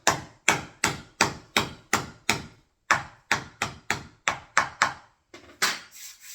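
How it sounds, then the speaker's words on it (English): Hammer tapping a laminate flooring board into place, a steady run of about fourteen sharp, close wooden knocks in two quick bursts, each ringing briefly before the next. "just tap it in nice and smooth"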